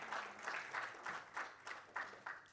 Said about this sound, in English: Let's have a huge round of applause for Miss Deepti Sanghi.